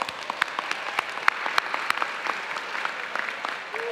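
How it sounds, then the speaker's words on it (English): A commencement audience at Lincoln University in Pennsylvania gives a round of applause, a steady spread of clapping heard at moderate distance with a few sharper individual claps standing out. "Can we give them one more round of applause?"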